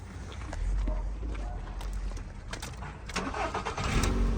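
Used car at a car market being started with its key, a short cranking burst then a running engine idling close by, with clicks and handling noises and people talking.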